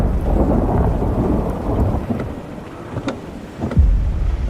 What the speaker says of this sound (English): So I think this might be like the rain that's coming down, the acid rain.